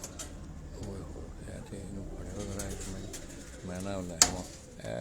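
Pigeons cooing at a farm house, soft repeated throaty coos close by, mixed with voices and low background noise.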